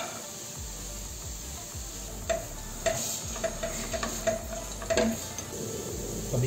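Carrots stirred with chicken in a non-stick pan, a soft steady sizzle with scattered scraping and clicking from the spoon against the pan, close and fairly quiet with no speech.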